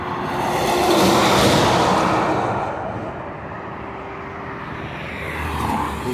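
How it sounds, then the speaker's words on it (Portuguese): Scania truck of the Entran company rolling past on the Fernão Dias highway near Atibaia, a loud broadband roar that swells and fades as it passes, with steady traffic noise continuing behind. "Caminhão Scania."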